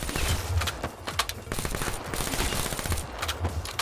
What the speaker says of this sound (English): I feel like I'm shooting them a lot and not hitting some of them.